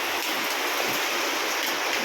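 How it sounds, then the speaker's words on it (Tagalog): Heavy afternoon rain pours down outside a house, a dense, steady hiss of water hitting surfaces, close and loud, continuing without a break and with no voices. "Lakas ng ulan."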